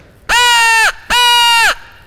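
Two loud, close caws in quick succession from a turkey locator call imitating a crow, each a harsh nasal blast under a second long, heard at a turkey-hunting seminar.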